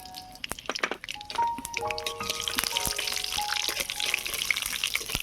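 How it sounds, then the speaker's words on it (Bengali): Nigella seeds and green chili temper in hot mustard oil in a wok over a village stove, crackling and spitting in sharp pops that build into a dense sizzle. "ফোড়নটা ভাজা হয়ে গিয়েছে"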